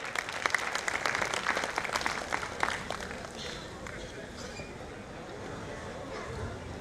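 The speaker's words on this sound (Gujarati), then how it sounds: "ખૂબ બધી તાળીઓના નાદથી આપણે વધાવીએ દોસ્તો." An audience at a credit cooperative's annual general meeting and musical night claps to welcome guests onto the stage, dense applause for about three seconds that thins and fades into crowd murmur.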